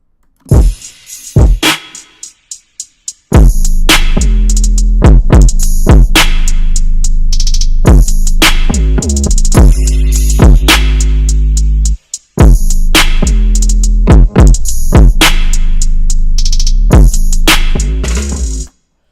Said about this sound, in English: I added the drums